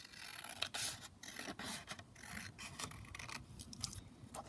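Scissors snip through collage paper close by, making soft repeated rasping cuts and crinkles at an uneven rhythm, quiet with no talking.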